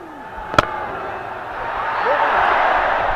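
Spectators at a Nepal versus UAE cricket final at TU Ground: a sharp bat crack early, then crowd noise swelling into broad distant cheering that grows louder toward the end.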